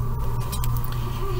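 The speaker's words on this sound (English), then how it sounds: "can you hear my Keurig going on behind me?" A Keurig coffee maker running indoors: a steady low mechanical hum with a faint tonal whine and a few soft ticks and clicks, fairly close and continuous throughout.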